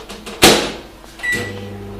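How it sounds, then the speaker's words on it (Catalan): Microwave oven warming lime juice for dissolving gelatin sheets: a sharp click of the door or button, then a steady low hum with a faint electronic beep as the oven starts running. "calfarem al microones el suc de la llima per a diluir les fulles de gelatina"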